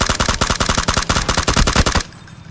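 A shooter video game's automatic weapon fires a rapid, loud burst of about twenty evenly spaced shots, then stops abruptly, leaving a quiet tail.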